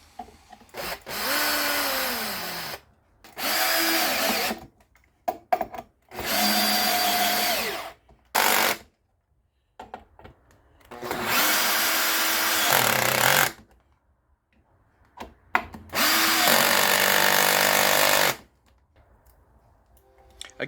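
A power tool drives M6 bolts into an 18mm oiled birch ply baseboard in several loud, close bursts of whirring and grinding lasting a few seconds each, separated by quiet pauses and small handling knocks.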